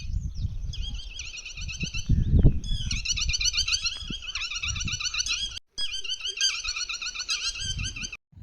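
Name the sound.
loud birds calling near a lake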